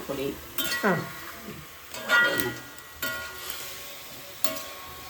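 Chicken fried rice is stirred and spread in a cooking pan, with repeated scraping and clinking strokes of a utensil over a soft sizzle, while a person talks in between.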